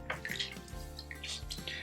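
Filter sponges are squeezed and rinsed in a container of aquarium water, giving faint, close sloshing and splashing with irregular bursts of dripping and gurgling.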